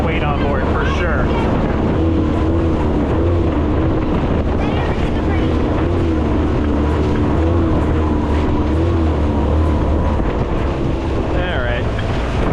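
Saturn SD518 inflatable boat running loaded with five passengers, its motor droning steadily under heavy wind buffeting and rushing water for the whole stretch, loud and close.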